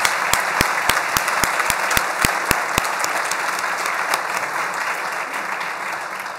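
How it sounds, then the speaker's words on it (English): An audience at the Onslow County public safety awards gives sustained applause for nominees and winners, with a few sharp, evenly spaced close claps standing out in the first half before the crowd noise fades slightly. "I know we've done a lot of clapping, but let's give one more round to all of the nominees as well as the award winners"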